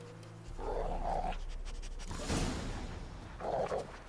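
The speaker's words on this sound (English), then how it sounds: "Okay, following the dog." A tracking hound in The Witcher 3 follows a scent, heard as a few close, breathy panting and sniffing bursts over a low game ambience, with no speech.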